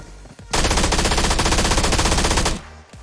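Loud, rapid automatic fire from an MP5K submachine gun in PUBG Mobile: one continuous burst of roughly two seconds, close and dominant, with no talking.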